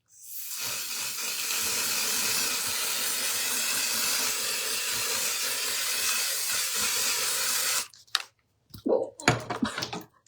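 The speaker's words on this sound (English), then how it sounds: "this waterproof setting spray is great." Waterproof makeup setting spray hisses out in one long, continuous burst of about seven seconds, close and steady, followed by a few soft handling clicks and brief rustling.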